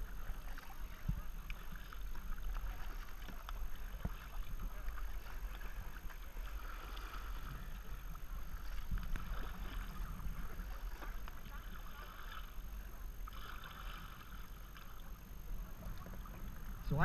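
Kayaks paddle along a river with a strong current, steady water swishing and wind noise filling the scene, faint splashes of paddle strokes throughout and distant voices now and then.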